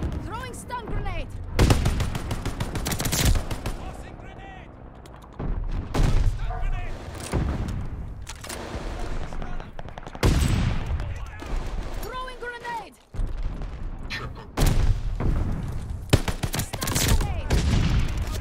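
Death Machine firing in Call of Duty Vanguard: long, dense rattling bursts of rapid gunfire broken by brief pauses, loud and close, mixed with game explosions and a voice speaking over parts of it.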